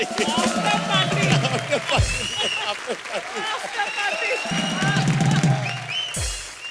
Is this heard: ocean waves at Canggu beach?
no